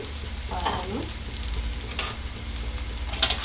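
Vegetable noodles tossed and stirred in a hot pan over high flame, a steady close sizzle with scraping and clattering stir strokes throughout.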